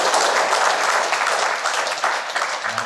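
A crowd applauds steadily at a union consolidation gathering, a dense, sustained wash of clapping from many hands that stays loud for the whole stretch without pausing.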